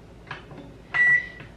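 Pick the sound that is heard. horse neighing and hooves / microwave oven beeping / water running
microwave oven beeping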